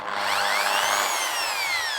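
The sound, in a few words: Hyundai electric drill spinning in reverse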